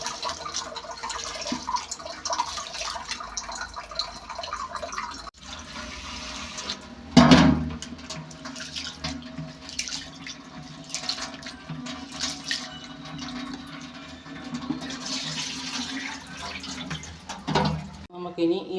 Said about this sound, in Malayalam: ഈ അരി നമുക്കൊരു 5-6 വെള്ളത്തിൽ കഴുകി കൊണ്ടുവരാം.